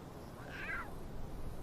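A lion cub gives a single high, wavering mewing call from a wild forest setting, rising out of steady low background noise, moderately close and without talking.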